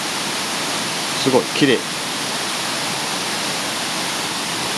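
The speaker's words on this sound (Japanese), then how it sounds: "でもうすぐそこが滝ですね。 滝になってます。" Waterfall on a clear river near Arima Onsen, a steady full-band rushing roar filling the whole clip, with a brief spoken exclamation of admiration partway through.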